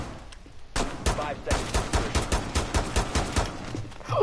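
Gunfire in a tactical shooter game during a hostage mission, with rapid bursts of shots cracking in a fast, uneven rhythm, loud and near, after a short quiet start.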